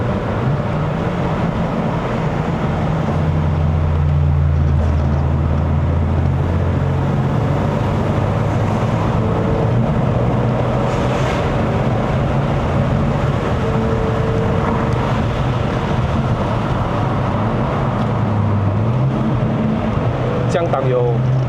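A Ford Mustang 2.3T EcoBoost in Sport Plus mode drones steadily on a mountain road, its low engine note rising and falling with gear changes while people talk inside the cabin.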